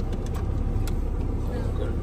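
A steady engine and road rumble from an army vehicle on a narrow mountain road near Turtuk in Ladakh, continuous and fairly close for the whole stretch.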